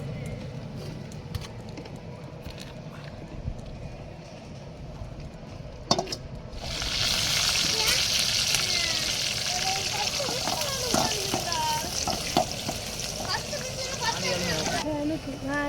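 After a few quiet clinks, a loud burst of sizzling erupts as spices hit hot oil for tempering a crab curry, then keeps frying steadily with crackles while someone talks.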